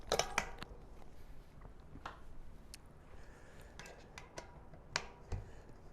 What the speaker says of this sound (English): While pulling up, slide in your through axle.